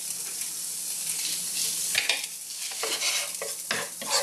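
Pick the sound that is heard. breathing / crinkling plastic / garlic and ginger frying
garlic and ginger frying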